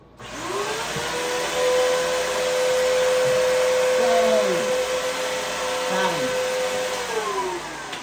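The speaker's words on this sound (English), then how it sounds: "I love to suck up flies." A vacuum cleaner runs loud and close with a steady droning whine that shifts in pitch as it sucks up flies from windows and the ceiling, with a voice talking over it.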